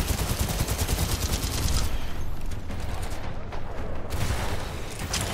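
Sustained rapid gunfire from the shooter video game Titanfall 2 aimed at the player, a dense loud barrage of bursts running the whole stretch with no talking.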